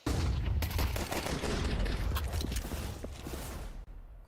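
Rapid gunfire in the video game Counter-Strike 2, a dense run of sharp close shots over a constant rumbling bed, loud and continuous before dropping away at the end.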